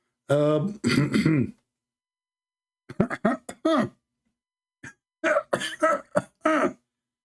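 Several coughs and throat-clearing sounds come in short bursts separated by silences, close and fairly loud.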